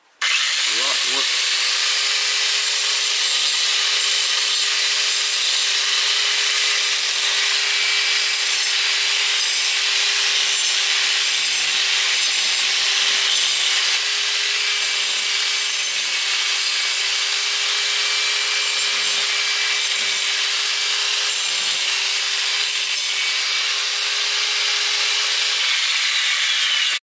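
A power tool roughly grinds and carves into Ezo spruce bonsai wood, a loud continuous abrasive whine with a steady tone running nearly half a minute, close up, with occasional background voices.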